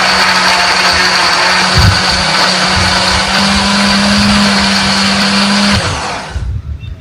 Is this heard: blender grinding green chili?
yes